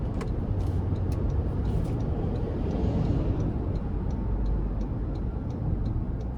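A 2025 Toyota Land Cruiser Premium with the i-Force MAX powertrain accelerating in sport mode, a steady loud cabin drone of engine and road noise with faint ticking clicks, heard from inside.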